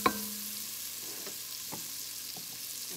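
Garlic frying in a hot non-stick pan gives a faint, steady sizzle, with a few soft stirring knocks and one sharp tap at the start.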